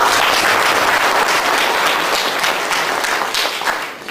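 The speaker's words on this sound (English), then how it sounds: "let's give a big applause to the three presenters, please." Audience applause for three presenters at an international university symposium in Kenya, a dense, steady wash of clapping that stays loud throughout and tapers slightly at the end.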